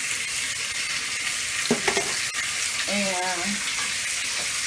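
Bacon grease sizzles in a pan for fried rice with a steady, close hiss, over a brief clink and a short spoken word.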